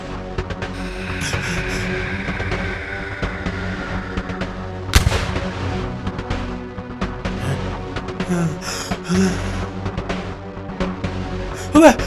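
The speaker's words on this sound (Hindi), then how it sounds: "गोली मार इनको" Gunfire in a Hindi TV drama shootout from a snake-and-serpent revenge story: sharp shot bursts crack over a dense, continuous score and effects bed, with one louder report standing out partway through.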